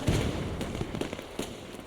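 An explosion in the Men of War 2 World War II strategy game: a dense crackling blast up front, then scattered pops and bursts over constant battle noise, with no voices.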